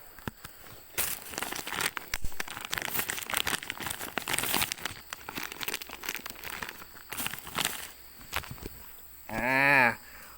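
Plastic wrapping around a spicy pork burger crinkles and rustles in dense bursts for several seconds as it is pulled open close by, ending with a short, louder sweeping noise.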